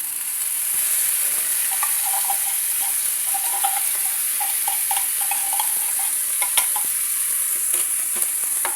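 Corned beef sizzles and crackles in a hot pan while being stirred, with a constant bright hiss and scattered scraping clicks from the utensil, close and alone.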